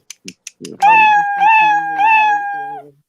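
A cat meows in long, drawn-out cries, three loud sustained calls in a row, close by, after a few short clicks and faint sounds.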